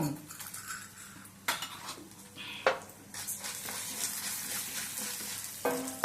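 Urad dal tossed into a hot pan and frying for mint-coriander chutney, with a spoon clinking and scraping against metal several times amid a soft, continuous sizzle, up close.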